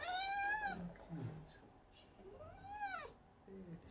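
A cat meows repeatedly during a veterinary exam, two long rising-and-falling cries close by with quieter sounds between, and a person talking softly in the background.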